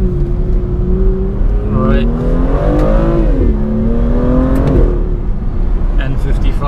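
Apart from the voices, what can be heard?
M55 car engine revving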